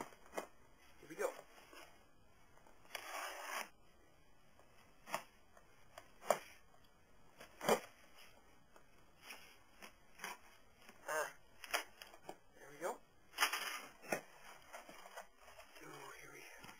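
Paper packaging around a Yo-Yo Factory Genesis yo-yo is unwrapped and crumpled close up in a series of sharp, irregular crinkles and rustles spread throughout, with a person speaking in between.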